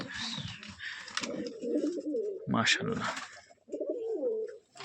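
Pigeons of a high-flying surki bazi breed coo softly in a loft, their low burbling calls mixed in and around nearby conversation.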